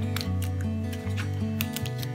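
Short crisp snips repeat several times over a steady low hum, close and fairly quiet, like scissors cutting through packaging of new golf clubs.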